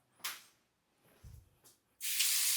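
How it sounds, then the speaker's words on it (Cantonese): Water from a bathroom tap in a guest bathroom with a separate shower area, in a sea-view apartment, bursts into a loud, steady rush near the end after a few brief clicks and handling noises. "呢啲水壓係咪非常好？"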